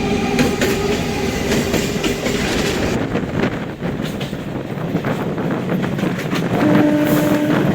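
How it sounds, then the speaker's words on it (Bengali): Krishnanagar local commuter train running, a steady loud rumble of rolling wheels and carriage noise with rhythmic rail clatter, brief tonal squeal near the end, no talking. "এই ট্রেনেই এবার উঠবো"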